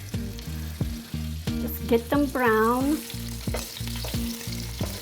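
Steady crackling sizzle of chicken frying in a hot pan, with clinks of a utensil, while a voice speaks briefly over it.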